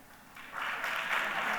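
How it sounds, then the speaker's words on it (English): Conference audience at an inclusion summit breaks into applause, starting quietly and swelling into a broad, steady wash of clapping that carries on to the end, heard from a distance in the room. "everybody needs to give a big round of applause as I try to rearrange my set"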